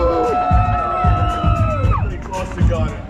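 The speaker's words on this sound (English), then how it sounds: "Kentucky, cheer it up." A car-show crowd at a Mustang Week event in Texas cheers for one contestant in a vote, with whoops and shouting rising over a steady, loud hubbub and an amplified host's voice.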